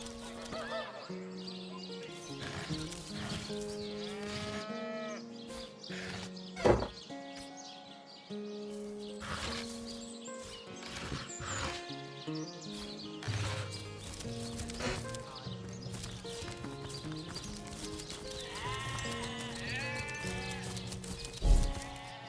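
Sheep bleating in the Divinity: Original Sin video game, repeated wavering bleats over a layer of game music and ambience, fairly close and prominent.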